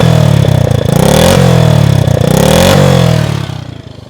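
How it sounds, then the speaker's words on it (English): A 1966 Honda C100 Super Cub with its exhaust pipe cut at the tip revs loudly and close, its engine rising and falling in two surges before the sound tapers off. "It's enough engine action for one day."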